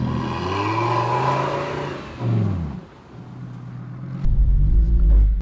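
A Lamborghini Sterrato engine revs hard during a J-turn, rising and falling loudly, dipping briefly, then settling into a deep, rough rumble at the end.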